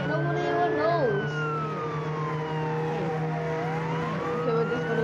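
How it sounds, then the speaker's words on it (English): A police car siren in the Roblox game Jailbreak wails steadily, rising and falling over the hum of a car engine. "I like the sirens."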